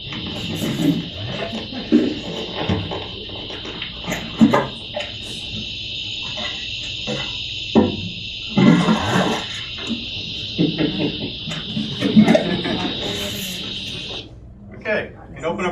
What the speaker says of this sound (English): What you hear is lake water coming into the catch basin.